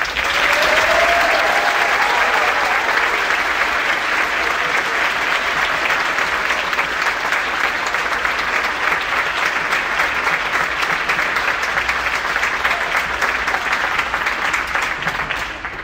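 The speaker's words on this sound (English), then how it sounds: "Let's give them a round of applause." Sustained audience applause fills an auditorium at a school spring concert for eighth grade and high school performers, a dense, steady wash of many hands clapping loudly for about sixteen seconds before easing slightly at the end.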